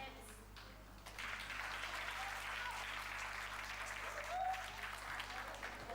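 A small group claps together during a live-streamed training session, the applause rising after a quiet first second and holding steady at moderate level, slightly distant and roomy.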